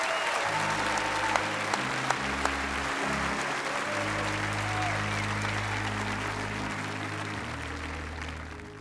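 A crowd applauds steadily at an Easter church baptism service, dense sustained clapping that fills the space, with some talk beneath it and a low hum of music underneath.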